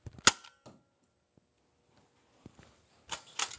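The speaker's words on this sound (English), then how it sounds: "This is a Nerf gun that is loaded." A Nerf toy gun fired indoors gives one sharp, close snap near the start, followed by a few faint clicks and handling noises, then rustling toward the end.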